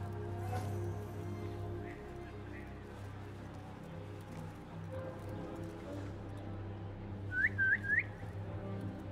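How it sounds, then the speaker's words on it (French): Player character in the video game Assassin's Creed Mirage gives a short whistle, three quick rising chirps near the end, over steady game ambience and music. "je voulais pas siffler"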